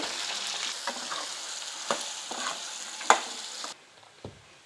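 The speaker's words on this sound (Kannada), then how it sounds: "ಕರ್ಬೇವಿನ ಸೊಪ್ಪು ಹಾಕ್ತಾ ಇದ್ದೀನಿ ನೋಡಿ ಸಣ್ಣದಾಗಿ ಕಟ್ ಮಾಡಿರೋದು ಒಂದು ಈರುಳ್ಳಿ" Curry leaves and finely chopped onion sizzle in hot oil for a tempering, a steady crackling hiss with a few sharper pops and stirring knocks, until it drops away abruptly near the end.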